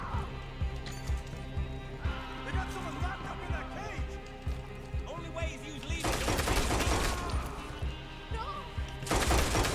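Rapid gunfire while shooting enemies in the Western video game Red Dead Redemption 2, a steady rhythm of sharp shots that grows louder and denser toward the end, mixed with game sounds and someone talking throughout.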